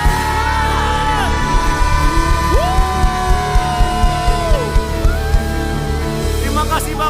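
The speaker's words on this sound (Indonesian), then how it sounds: "Mari berikan tepuk tangan sorak-sorai bagi Tuhan" A church congregation cheers, whoops and claps for God during a service, making a loud, continuous crowd roar with rhythmic clapping and shouted voices throughout.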